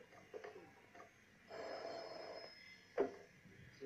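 Telephone ringing indoors during a call to a doctor, a faint electronic ring in two short bursts with a sharp click at the end, no voices over it.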